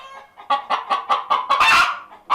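A chicken clucks close up in a quick series of short, rhythmic calls, ending in a louder squawk.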